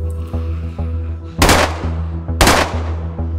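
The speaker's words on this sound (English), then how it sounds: "Why are you shooting the cola machine?" Two loud, sharp gunshots about a second apart in DayZ, aimed at a cola vending machine, ringing out over a steady low hum and faint rhythmic ticking.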